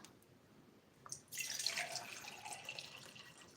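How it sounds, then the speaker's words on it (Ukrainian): Water pouring from a container into ordinary half-litre glass jars for rooting ficus cuttings; a soft splashing pour starts after a quiet moment and runs steadily to the end, close by. "По пів баночки наливаємо водички."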